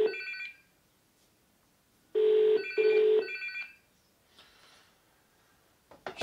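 An incoming phone call rings through a Betron E50 Bluetooth speaker in two bursts of electronic ringing. Each burst is a pair of trilling pulses, separated by silence, with a faint sound trailing after.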